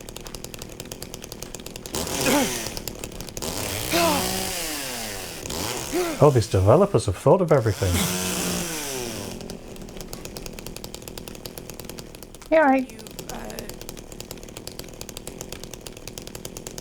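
A chainsaw revs in the Silent Hill 2 video game, sounding in several separate bursts, a few of them long and some short, with people talking between them.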